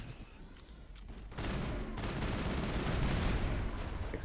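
Sustained gunfire in the Citadel in the Mass Effect video game, a dense, loud rattling volley that starts sparse and builds into continuous shooting lasting several seconds, with no speech over it.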